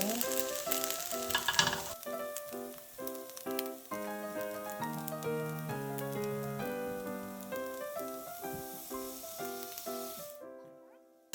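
Anchovies and peanuts stir-fry in a pan with a soft, continuous crackling sizzle, faint and partly buried under gentle background music, and fading out at the very end.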